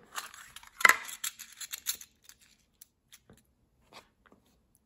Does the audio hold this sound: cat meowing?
no